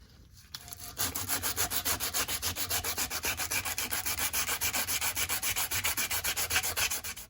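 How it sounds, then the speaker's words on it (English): Sandpaper rubs back and forth on a metal coil bracket from a 1977 Ford F150 4x4 400, a steady, close rhythmic scratching in quick even strokes that continues for several seconds with no talking. "I'll take some sandpaper and sand it"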